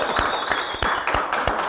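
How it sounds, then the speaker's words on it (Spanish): A small audience at a Peruvian interview broadcast gives a round of applause, with a few distinct, fairly close hand claps in an uneven rhythm over a faint room background. "Y un aplauso para Trujillo Limpio también."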